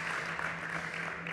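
Audience applause in a conference room at a startup competition, a short steady patter of clapping heard at moderate distance.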